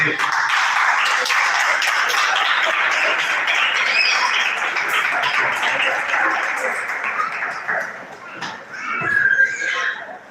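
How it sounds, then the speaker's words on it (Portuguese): A church congregation claps to welcome the preacher at an evening service, sustained bright applause with cheering and scattered shouts that thins out near the end. "Receba o servo do Senhor com suas palmas bem alegres"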